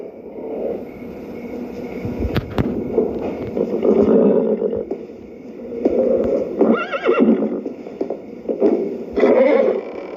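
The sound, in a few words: horse neighing and hooves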